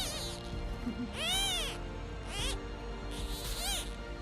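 A two-faced kitten gives three thin, high meows spaced about a second apart, fairly close, over low background noise.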